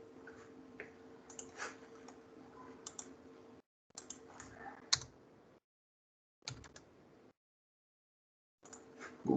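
Computer keyboard typing comes in close, clattering bursts of rapid key clicks. Several short gaps of near silence separate the bursts, and a low steady hum sits underneath.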